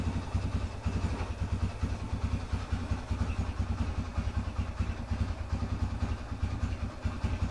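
A Yamaha TTR125 dirt bike, assembled from parts of two bikes, idles with a steady, fast popping single-cylinder putter, moderately loud and close, running alone without voices or throttle changes.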